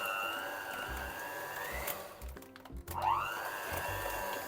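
An electric mixer beats cream at a low, steady speed, whirring, briefly pausing and rattling before starting up again with a rising whine.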